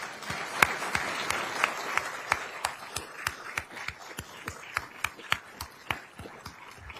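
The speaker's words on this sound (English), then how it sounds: "Please join me in a round of applause of thanks to Brigadier General and Dr. Harrison." Audience applause at a military relinquishment-of-command ceremony honoring a departing brigadier general, steady massed clapping with distinct sharp claps standing out, sustained for several seconds.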